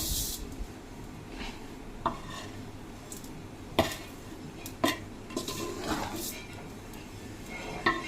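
Spoon scraping and clinking in a pan while butter garlic rice is stirred, soft rubbing with a few sharp metallic taps at irregular intervals, close and quiet.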